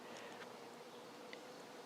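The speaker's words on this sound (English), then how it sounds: "Look at these bees." Bees working red poppies in a cottage garden, a soft, steady insect buzz close by with faint passing whines over quiet outdoor background, no talking.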